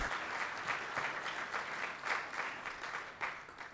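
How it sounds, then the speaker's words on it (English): A small audience at a ground-source heat pump commissioning and operator training session gives a short, steady round of applause, fairly quiet and evenly paced. "how about a round of applause for Zach?"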